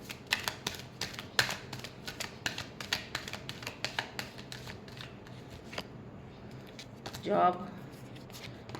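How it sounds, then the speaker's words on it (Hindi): Tarot cards are shuffled by hand in a steady run of quick, soft riffling snaps up close. A brief spoken word cuts in near the end. "Last shuffle."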